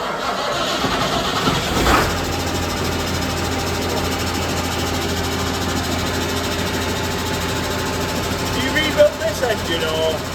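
Engine out of a Massey 29 combine, fitted with a big turbo, cranks and fires near the two-second mark, then settles into a steady, loud mid-pitched running drone with voices talking over it.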